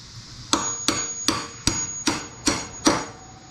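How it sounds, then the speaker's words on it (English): Seven sharp hammer strikes drive a punch against a steel pin on a 2021 Harley-Davidson Road Glide handlebar mount, evenly spaced and ringing with a high metallic tone, close and alone. "Just use a punch"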